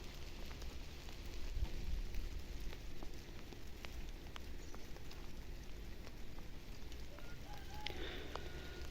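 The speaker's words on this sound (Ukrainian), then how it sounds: "Капати дощик." Light rain patters and drips steadily outdoors in a village on a foggy morning, with scattered sharp drops standing out against a soft continuous wash; a faint voice briefly rises near the end.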